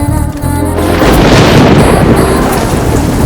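A deep rumble of thunder rolls in and gives way to a dense, loud hiss of steady rain.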